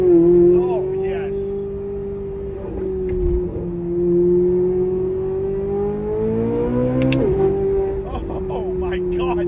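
A Corvette C8 Z06 with Concept 841 headers and AWE exhaust drones with a low, steady rumble, rising briefly in pitch as the engine revs before settling back.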